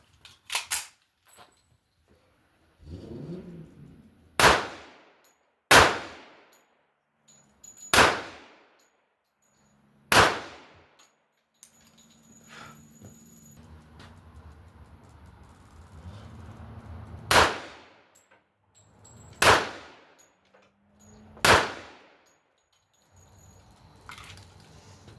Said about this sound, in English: It's also really weird going back to shooting a 1911 again